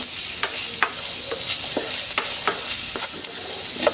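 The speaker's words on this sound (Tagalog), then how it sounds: "saka natin ilagay yung ating bawang sibuyas habang pinagba-brown natin yung ating beef" Beef browns in a pan with garlic and onion, giving a loud, continuous close sizzle with crackling and occasional scraping stirs throughout, and no speech.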